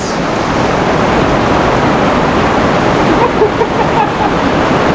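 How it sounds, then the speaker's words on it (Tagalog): A loud, continuous wash of rushing water noise, like heavy rain pouring down nearby, steady and unbroken throughout. "sobra yung lakas ng ulan"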